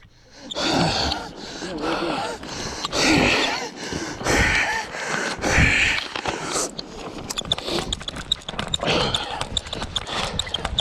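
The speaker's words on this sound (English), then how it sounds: "This is how hard I'm breathing right now." Heavy, rapid breathing from a runner just after a quarter-mile run in a winter storm, loud close gasps and wheezes in a rough rhythm, with crunching footsteps toward the end.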